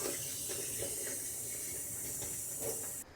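Water runs steadily into a kitchen sink while dishes are washed, a continuous close hiss of tap flow with faint clinks, lasting throughout before cutting off at the end.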